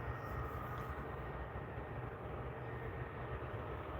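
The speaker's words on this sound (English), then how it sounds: "So EasyJet A320 is heading out to Birmingham." An EasyJet Airbus A320 departs Edinburgh Airport, its jet engines a steady, broad low roar that stays loud and even throughout, with no voices.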